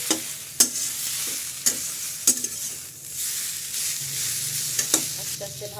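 Taro leaves fry slowly in a pan with a steady close sizzle, broken by sharp scrapes and knocks as a spatula stirs them, without any talking.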